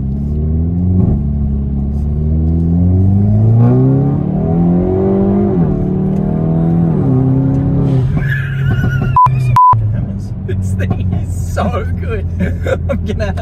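A Hyundai i30 N with DCT gearbox run at full power on a dyno in N mode with the exhaust fully open, engine rising through gears in loud sweeping pulls and then easing off into a steady drone, with people talking.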